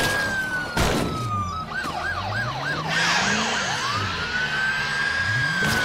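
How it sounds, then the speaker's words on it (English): A police car siren passes in the State of Decay 2 video game, a loud wailing siren that shifts into fast yelping cycles and then back to a long wail, alone with no talk. "Won't have anything to do with the police car that went by, did it?"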